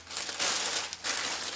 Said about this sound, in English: Plastic bag for the lid.